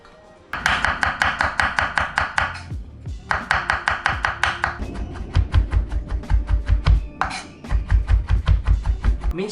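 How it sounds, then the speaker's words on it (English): A knife slices and minces peeled garlic on a cutting board: fast, evenly spaced chopping taps in bursts with short pauses, close and crisp, the later strokes heavier and thumping. "we're gonna slice and mince the garlic."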